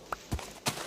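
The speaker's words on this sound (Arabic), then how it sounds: "اوكي هذا حصان، هذا حصان يعني شلون اركبه؟" A horse's hooves clip-clop in Minecraft, a few soft, quick steps in a short burst, fairly quiet and close.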